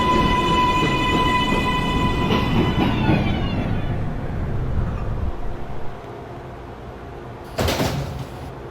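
An automatic IRT 7 local subway train runs loud and close, with a low rumble of wheels, a rising motor whine and a sliding door thud near the end.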